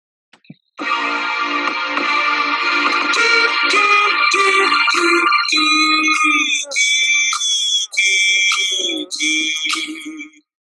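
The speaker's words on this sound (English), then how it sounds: "Now our 5-tone slide down on the hooty gi." A single voice sings a five-tone descending slide on the syllable "gi", sustained, bright tones stepping downward in pitch, repeated several times with brief breaks between phrases.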